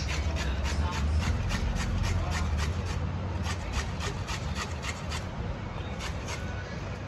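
Carrots are grated by hand for carrot halwa, a repeated rhythmic rasping scrape with about a dozen quick strokes close by, over a low background murmur.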